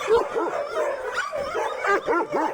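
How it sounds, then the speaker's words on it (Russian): A thin, underfed dog at a wintry kennel whimpers and yips, then gives a few short barks in an uneven rhythm, loud and close, with no talking. "Посмотрите, какой худой пес."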